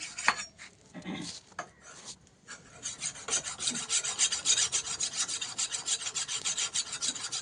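Kitchen knife blade rubbed back and forth on a household grinding stone, a steady rasping scrape repeating in quick strokes, close and fairly loud with no talk.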